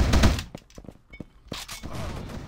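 Shotgun fire in the first-person shooter AssaultCube: a loud opening blast followed by a string of sharp, spaced shots and impacts, then a denser burst of noisy gunfire at the end, with no talking.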